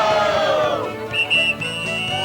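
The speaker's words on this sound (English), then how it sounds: "With the last blast of that whistle" A steady high whistle tone sounds in short bursts over a busy, noisy background in a Newfoundland pub.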